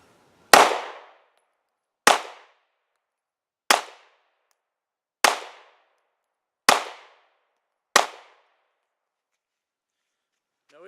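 Six sharp shots from a Glock 43 pistol fired at 8 yards, loud and evenly spaced about a second and a half apart, each with a short decaying tail.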